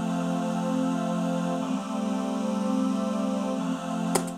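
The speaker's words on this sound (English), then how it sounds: "I kind of did this layered thing with R's, synthetic R's, which sound like this" Layered synthetic vocal R sounds built in Cubase form a sustained, buzzy harmonic drone that wavers slightly in pitch, ending with a brief sharp click near the close.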